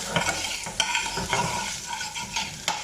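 Finely chopped onions cook in a pan for chicken samosa filling, a continuous close sizzle punctuated by regular stirring scrapes and taps of a utensil about every half second.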